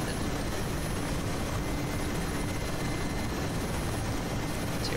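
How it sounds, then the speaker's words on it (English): Mi-8 helicopters flying in the DCS World combat flight game, a constant loud, dense roar of rotors and engines filling the whole five seconds with no talk. "It's your buddy helicopters."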